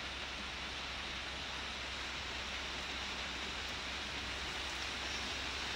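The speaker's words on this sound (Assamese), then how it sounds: "দেখিছে বৰষুণ দি আছে।" Rain falling outdoors on a bad-weather day, heard as a faint, even, unbroken wash of noise with no distinct drops or voices.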